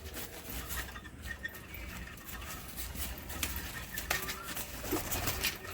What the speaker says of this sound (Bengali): এই যে পায়রাগুলো ছাড়া হবে